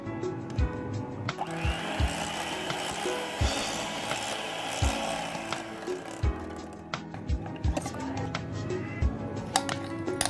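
An electric mixer whips cream together with mango pulp blended with condensed milk, a steady motor whir running throughout with periodic knocks and rattles of the beaters against the bowl.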